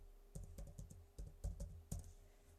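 Bursts of keystrokes on a computer keyboard, typed in a quick irregular rhythm of clustered clicks at close range, with a steady low hum underneath and no talking.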